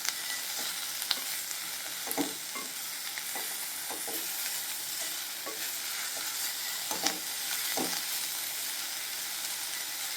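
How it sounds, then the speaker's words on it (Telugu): Ridge gourd pieces and peel frying in a pan over a medium flame, a continuous soft sizzle broken by frequent spoon-stirring clicks and scrapes, close and fairly quiet. "ఈ ముక్కలు, ఈ తోలు వేసి ఇలా ఫ్రై చేసుకోవాలి."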